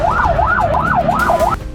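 Ambulance siren rushing along a road with a patient on board, a loud, close wailing tone that sweeps up and down in a steady rhythm about every third of a second before cutting off abruptly.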